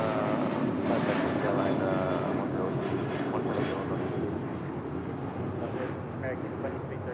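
American Airlines Boeing 737-800 jet at LAX, a steady broad engine roar that holds loud and constant throughout, with faint wind-like rushing and a voice briefly heard over it.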